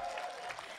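A brief, faint burst of audience clapping rises at a kavi sammelan poetry gathering in Shivganj, with a voice faintly over it.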